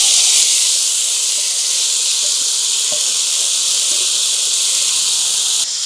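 Mung dal poured into a hot pan with ginger and asafoetida, cooked in a large batch for thirty people, gives a loud, steady broadband sizzle that runs continuously with faint clicks underneath and no talk.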